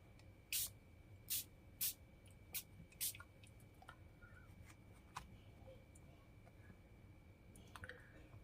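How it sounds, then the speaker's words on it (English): A spray bottle spritzes water onto paint in a mixed-media craft journal, five or six sharp, close hissing squirts in a quick series, followed by faint small taps and quiet handling sounds. "I'm just going to grab some water, give it a spritz, and that will move the paint around a little bit."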